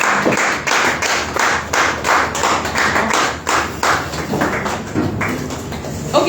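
An audience at a mind-body-soul bootcamp event in Lagos claps loudly and continuously, the dense ovation carrying a rough pulsing rhythm throughout.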